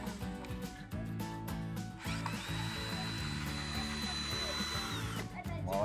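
A DeWalt cordless screwdriver drives a screw in a steady, continuous motor whine lasting several seconds, close and moderately loud, with a short pause before the run resumes.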